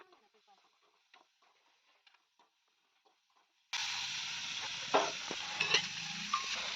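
Spices are tempered for dal in a pan. After a few seconds of faint clicks and near silence, a loud, sudden sizzle of frying breaks out and continues steadily, with small pops and crackles.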